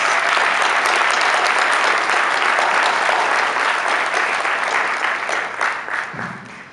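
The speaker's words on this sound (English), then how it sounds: "Let's give all of our leaders a round of applause." A dinner audience at the 2015 MAPO event gives its leaders a sustained round of applause, dense and loud clapping that holds steady before easing off near the end.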